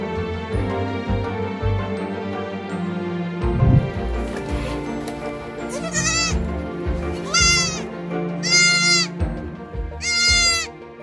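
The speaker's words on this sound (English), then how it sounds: "There are two newborn baby goats." Two newborn baby goats in a goat barn bleat in several high, wavering calls spaced a second or two apart, close and clear over background music.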